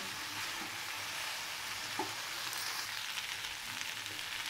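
Spiced turnip curry sautés in a pan with a steady, close frying sizzle and faint stirring scrapes, continuous throughout with no voices.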